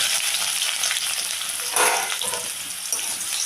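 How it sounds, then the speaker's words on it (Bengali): Two cloves of garlic and a small chopped onion hitting hot oil, giving a loud, bright, continuous sizzle up close with a brief surge partway through. "তেলটা গরম হয়ে গেছে দিয়ে দিলাম দুই কোয়া রসুন ছোটো করা একটা ছোট সাইজের পেঁয়াজ কুচি করা"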